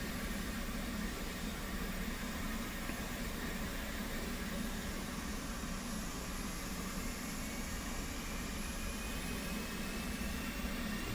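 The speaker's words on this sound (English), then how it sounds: "Go ahead and get the engine crank going." F-18 jet engine cranking during start-up, a steady broadband roar and hum that holds even throughout, with no voices over it.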